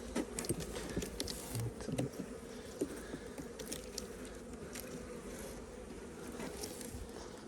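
Carniolan honey bees buzz inside a six-frame hive, a dense, steady drone of many insects with occasional nearer wingbeats, fairly faint and heard alone without talk.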